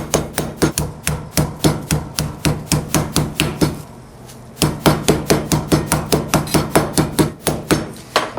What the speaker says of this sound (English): This is a mallet, a meat tenderizer.